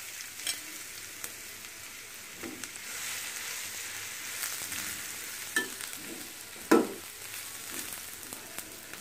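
Chopped onion and garlic frying in hot oil for a spinach and egg dish, a soft continuous sizzle with a few scattered spatula taps and one sharper knock, fairly quiet, no voices.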